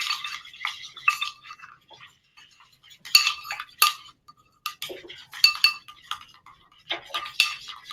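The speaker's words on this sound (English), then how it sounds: "I'm going to stir it around." A spoon stirs vanilla into a sauce inside a glass jar, giving bright, irregular clinks and scrapes against the glass in quick bursts separated by brief quiet gaps.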